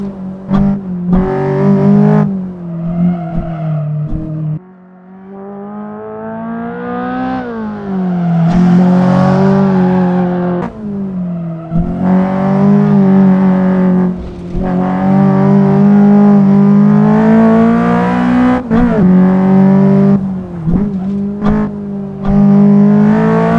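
A Honda Civic EK9 racing on a mountain touge course in a video game, its engine loud and close, revving hard through the gears with repeated climbs and drops in pitch and a brief lift-off near five seconds.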